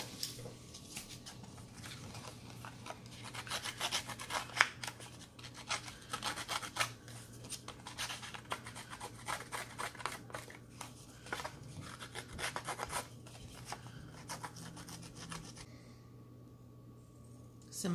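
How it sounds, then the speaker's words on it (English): Scissor blades scraping and roughing up the edges of paper seed packets, a quiet run of short rasping scratches in an irregular rhythm, close and soft, with pauses near the end. "You just wanna go like this and just rough it up here and there just to make it look a little bit more grungy."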